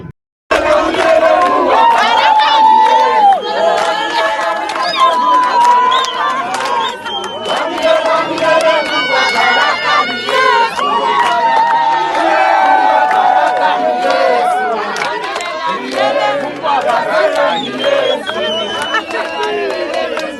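A large outdoor crowd in Goma cheers and chants for Willy Ngoma, a loud, continuous roar of many voices with shouts rising and falling, close and dense throughout.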